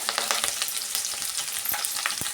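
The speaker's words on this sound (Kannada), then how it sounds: "ಫ್ರೈ ಮಾಡ್ಕೊಳ್ಳೋಣ ಕೆಂಪಿಗೆ ಫ್ರೈ ಮಾಡ್ಕೊಬೇಕು ನಾವು" Chopped onion and curry leaves fry in hot oil in a pan with a bright, crackling sizzle, interrupted by repeated quick scraping strokes of stirring. The sound is close and continuous, with no voices.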